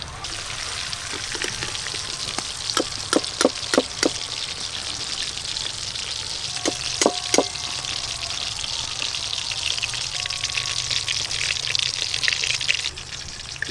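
Chicken pakora fries in hot oil with a steady, hissing sizzle and crackle, broken by clusters of sharp pops and spits, heard up close with no talking.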